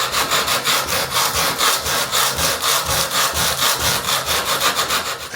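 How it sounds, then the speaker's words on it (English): Hand sanding a carbon steel knife blade through the grits toward 400: steady, rhythmic back-and-forth rasping strokes, loud and close, with no talking. "I'm going to work through the grits probably to about 400, so that it's finished beautifully smooth"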